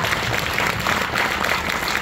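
A large college audience applauding loudly for the students' parents, a dense and steady wash of many hands clapping together without pause.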